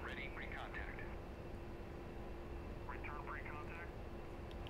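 The engine of an A-10C in the DCS World flight simulator hums as a steady, even cockpit drone during a night aerial refueling, with faint radio-like talk over it.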